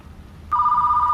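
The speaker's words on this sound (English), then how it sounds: "let's deal with a phone call, seeing we're right beside it." A telephone in the video game Retro Rewind Video Store Simulator starts ringing partway through, a steady electronic trill that continues to the end over low background noise.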